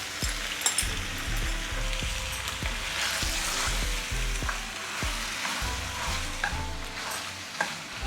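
Cooked pasta is stirred into a soft tomato and chopped coriander mixture in a sizzling pan, a continuous frying hiss broken by regular scraping knocks of the spoon.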